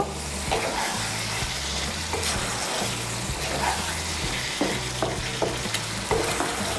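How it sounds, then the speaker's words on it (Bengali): Garam masala powder stirred into frying soybean chunks and eggplant, a constant sizzle with rhythmic scraping and knocking of a spoon against the pan, close and steady throughout. "গরম মশলার গুঁড়োটাকে ভালো করে মিশিয়ে নেব"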